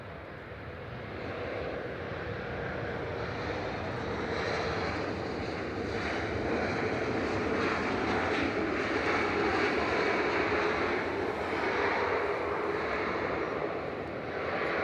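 An EasyJet jet from Geneva passes at Manchester Airport as a broad, steady engine roar that swells gradually and holds for many seconds, heard from a moderate distance with wind noise mixed in.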